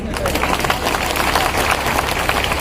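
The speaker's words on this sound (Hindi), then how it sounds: "अभी भी ताली कम होगी" Audience at a political rally in India applauding, a dense, steady burst of clapping from a large crowd, loud and close, with a speaker's voice mixed in.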